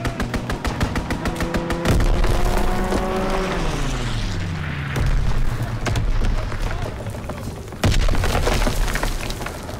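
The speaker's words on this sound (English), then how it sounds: "Fighter pilot inbound, strafing the target." Fighter jet making a strafing run in a shooter video game: a loud engine whine sweeps past and drops in pitch amid rapid bursts of gunfire and impacts, with sharp blasts following.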